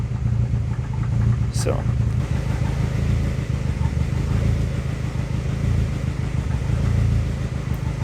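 A turbocharged SOHC Honda Civic D16 engine idles steadily when warmed up, with a low, even rumble throughout, and a person briefly speaks over it.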